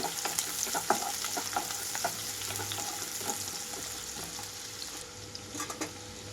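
Chopped onions sizzle steadily in a hot pan for a chicken curry with yellow cucumber, with repeated clinks and scrapes of a stirring spoon over continuous frying hiss.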